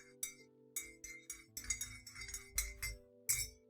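A spoon clinks against a glass while stirring cookie dough coffee, a quick series of bright, close taps and rattles in an irregular rhythm, fairly quiet.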